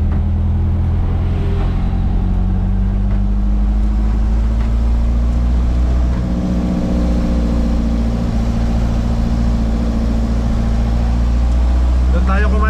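Isuzu 4JJ2 diesel engine runs loud and steady with a deep continuous hum and slowly shifting drone, while people talk over it.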